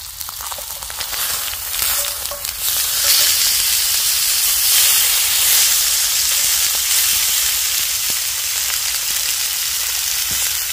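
Food sizzles and spits steadily in a pan over a campfire in winter woods, a loud continuous hiss with scattered pops and crackles, heard close with no talking.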